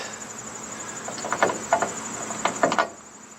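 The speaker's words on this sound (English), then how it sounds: "By hand, we're just going to use the lug wrench." A lug wrench tightens lock nuts on the pintle hitch of a 1954 Power Wagon, giving two quick bursts of short ratcheting clicks close by against a faint steady hiss.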